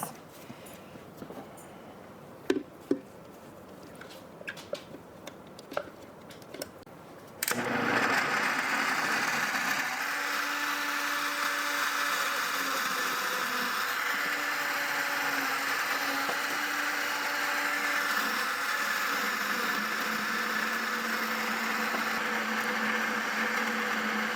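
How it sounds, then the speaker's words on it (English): A blender attachment chops garlic scapes with a loud, steady motor whine that kicks in abruptly after several seconds of quiet clicks and handling noises, then runs continuously at close range. "I haven't used the blender attachment yet."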